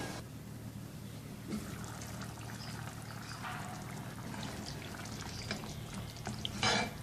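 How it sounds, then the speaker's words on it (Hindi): Water poured into a cooking pot of dal and meat for degi dal gosht, a faint steady trickle and splash with occasional clinks, close by and without talk. "अब इसमें शामिल कर देंगे हस्बे ज़रूरत पानी।"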